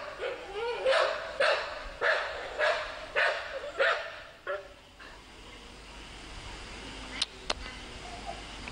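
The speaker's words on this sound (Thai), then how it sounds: "สุนัขเยอะเนาะ" Dogs bark in a series of loud, regular woofs for about five seconds near a temple, then quiet down to a faint background with a couple of brief sharp sounds.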